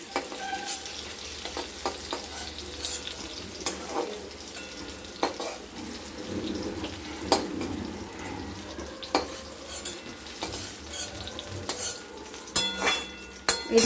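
Pointed gourd (potol) sizzles and fries in a pan while a utensil stirs and scrapes it, with irregular metallic clinks over a steady crackle and no voices.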